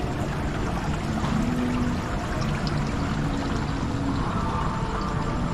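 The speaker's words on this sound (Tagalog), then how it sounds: "Ito tubig yan" Water runs steadily and loudly nearby, a continuous rushing pour without pause, near a dining area with tables and a wash area at Holland Village Mall in Singapore.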